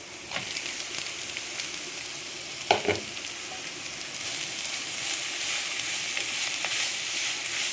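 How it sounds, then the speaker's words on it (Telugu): Carrots fry in a pan after browned ingredients, giving a steady close sizzle with a few sharper stirring clatters near the middle, no voices. "క్యారెట్ బాగా వేయించాలండి"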